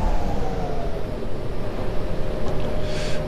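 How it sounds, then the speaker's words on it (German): Another train passing in a U-Bahn Simulator subway game, a loud, continuous low rumble and rolling rail roar that holds steady throughout, with a faint hiss near the end. "Da kommt wieder der andere Zug."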